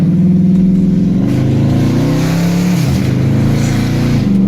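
Dodge with a 392 V8 engine and a JLT cold air intake accelerating hard, a loud, close engine roar with a steady low drone that rises and shifts in pitch through the pull, heard alone without voices.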